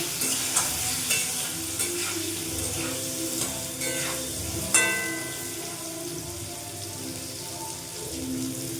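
Steamed elephant foot yam and potato fry in a pan with salt and turmeric, giving a steady close sizzle broken by repeated scraping strokes of a stirring spoon. Faint festival music plays in the background.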